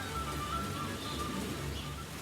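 Continuous rainfall, a soft steady patter and hiss that stays even throughout, with nothing else standing out.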